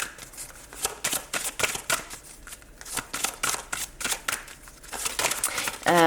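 Tarot cards are shuffled by hand in a series of quick, crisp riffling bursts, close and fairly loud, in a steady irregular rhythm with no talk over them.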